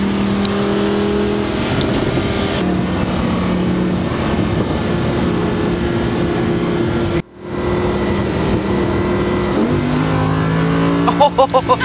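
A Lamborghini's V12 engine revs loud and close, a sustained roar with shifting pitch and a brief cut near the end, alongside other sports-car engine noise.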